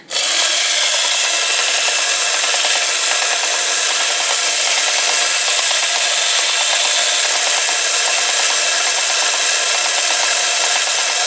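A continuous, even mechanical whirring and rattling runs close and loud without pause, a Marx World War I clockwork toy tank grinding along on its wind-up motor.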